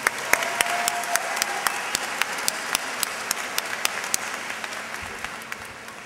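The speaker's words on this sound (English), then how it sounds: "So let's give a round of applause for Mrs." A graduation audience claps in a school ceremony, dense applause with a few sharp, distinct nearby claps standing out over the crowd, fading a little toward the end.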